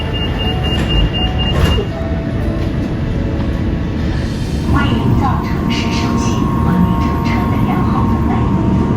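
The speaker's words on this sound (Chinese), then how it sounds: "S 开头的动车 S 读作是816动次，海口东到海口，由 CH6FA 型市郊动车组担当" A CRH6F-A suburban EMU runs on the Haikou suburban line from Haikou East to Haikou, heard from onboard as a loud, steady rolling rumble. A short series of beeps sounds early, and a rising electric motor whine joins midway.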